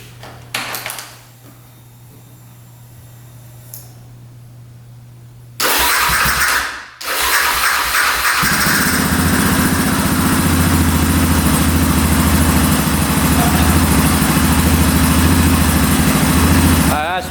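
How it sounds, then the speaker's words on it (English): An ATV engine is cranked and catches after a short quiet stretch, then runs steadily at a loud, close, mid-pitched rumble. A voice is heard briefly near the start. "She's running good, not idling up yet."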